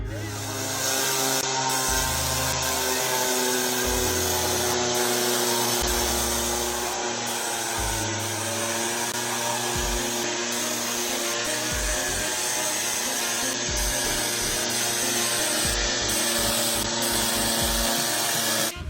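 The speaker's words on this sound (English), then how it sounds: "So switch on and start grinding." A floor grinder works over a garage's concrete floor during prep for epoxy, giving a loud, steady, continuous roar with shifting pitch as the machine moves.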